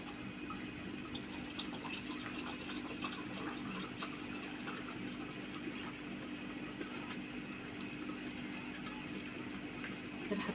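Cold water pours steadily into a container indoors, a constant close rushing wash that carries on without a break, over a hum in the room.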